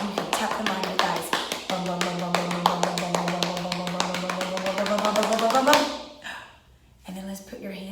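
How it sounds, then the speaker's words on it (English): Hands tapping rapidly on the thighs like a drum during a seated children's yoga session, making a steady run of crisp close pats over a sustained musical tone, fading out near the end. "you can take your hands and you can tap them on your thighs"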